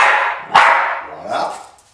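A dog gives a few short barks in a home training session for counting food bowls, close and loud, with someone talking around them.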